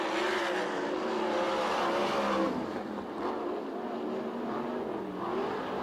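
USAC/CRA sprint cars race around the Perris dirt oval on the final lap, a continuous loud drone of open-wheel engines with shifting pitch as cars pass, steady and dense without pauses.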